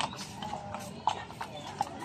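Horse hooves clip-clop at a ranch in Baguio, a steady run of light, moderately close hoofbeats heard under people chatting.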